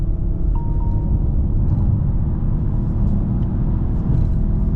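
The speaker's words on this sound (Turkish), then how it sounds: "Şöyle tekrar bir dip gaz yapayım." A new Peugeot 3008 hybrid, about 1.5 tonnes, accelerating at full throttle, heard from inside the cabin as a loud, steady, deep rumble of drivetrain and road noise without talk.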